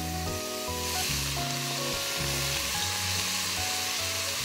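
A tablespoon or two of cooking oil sizzles in a pan while heating for a Korean spicy soft tofu stew, a steady, close frying hiss throughout with light music playing underneath.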